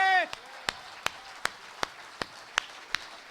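A voice is cut off, then rhythmic clapping follows: evenly spaced sharp claps, about two per second, moderately faint, from an audience at a poetry recital.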